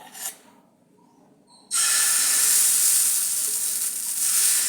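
Thick beer atlu batter of soaked rice flour and urad dal with cumin, salt, ginger and chilli hits a hot pan with a sudden loud, steady sizzle that holds for several seconds after a quiet pause.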